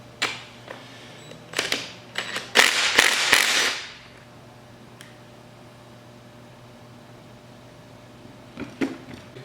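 Plug being worked loose and pulled from an A-Type overdrive unit during a workshop teardown: a cluster of sharp metallic clicks and scraping in the first few seconds, then near quiet with a couple of faint clicks near the end.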